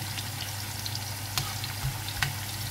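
Sweet potato slices fry steadily in hot oil with a continuous close sizzle, punctuated by a few brief clicks and pops as the pieces are moved.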